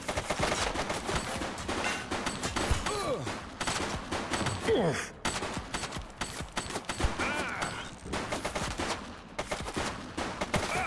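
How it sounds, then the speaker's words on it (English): Dense, sustained gunfire in a police shooter game, with overlapping bursts and automatic fire rattling almost continuously over the whole stretch. "Police officer. He's shooting."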